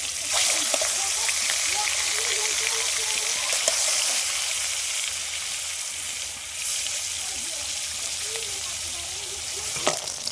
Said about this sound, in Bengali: মাছগুলো সব ভেজে নেব।